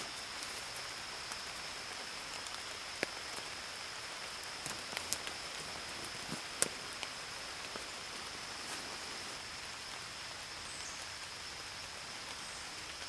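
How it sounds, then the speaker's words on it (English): Rain patters steadily on a hammock tent's rain fly at a creekside camp, a dense even hiss of drops with occasional louder close taps, no talk. "So now it's starting to rain"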